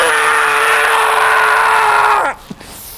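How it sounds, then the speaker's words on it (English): A man lets out one long, sustained scream inside the Screaming Tunnel, a loud held cry lasting about two seconds before it drops away sharply, followed by a brief faint sound and near silence. "I would like you to fill your lungs and have a good, long scream"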